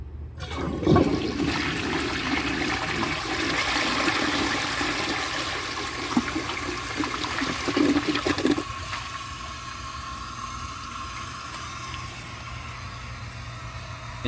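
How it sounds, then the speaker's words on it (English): A 1952 Homart toilet flushes a dish towel: a loud, close rush of water that surges for several seconds, then drops into a steady trickle as the tank refills, with no talking. "So when it is full, I will flush the dish towel."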